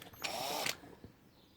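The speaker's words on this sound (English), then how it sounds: "just drill in till you go right through" A power drill with a fine bit bores into a lock plug, giving one steady high whine of about half a second, close and loud, followed by a faint knock and quiet room noise.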